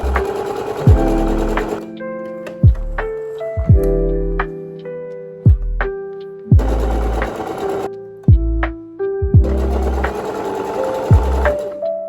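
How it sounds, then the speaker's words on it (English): Close and loud, a sewing machine stitches pieces of a cut-up button-up dress shirt together, whirring in several separate bursts with clunks as it starts and stops and pauses between runs. "Then I'm going to pin and sew it all together."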